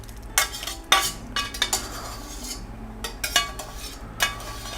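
Beautiful sauce gets scraped down a pan and tumbled over spaghetti: a metal utensil clinks and scrapes against cookware in a series of sharp, separate strikes, with softer wet stirring between them, all fairly quiet and close.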